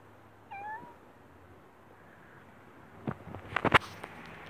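A single short cat meow sounds faintly in a quiet room, followed a few seconds later by a cluster of sharp, high chirping cries.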